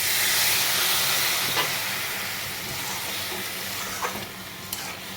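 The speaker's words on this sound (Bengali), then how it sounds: "এটাকে আমি ভালো করে নেড়ে ছেড়ে একটু জল দিয়ে এটাকে সিদ্ধ হতে দিয়ে দেবো" Food in a pan sizzling loudly after water is added, a strong continuous hiss and steam that slowly eases, with a few faint scrapes of stirring near the end.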